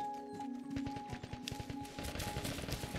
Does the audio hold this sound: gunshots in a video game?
yes